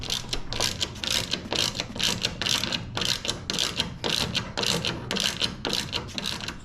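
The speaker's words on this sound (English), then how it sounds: "you're going to have a Torx, a T27, and you're just going to start actually removing these little screws right here" Small Torx T27 screws come out of a BMW Z4 front bumper, with a ratcheting driver clicking in quick repeated bursts close to the listener, pausing briefly between turns.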